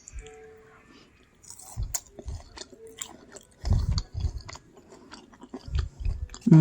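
Crunchy Thanksgiving food being chewed close up in a series of bursts of bites and mastication, with short pauses and soft mouth clicks between them.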